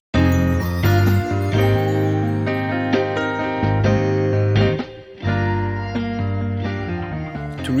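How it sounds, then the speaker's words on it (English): A real drum break chopped up to fit the groove of a 70s soul sample, with punchy, slightly irregular hits driving dense, warm instrumental music at a loud, steady level with a brief dip midway. "This was just a break I had on my PC, which I cut up to match the groove."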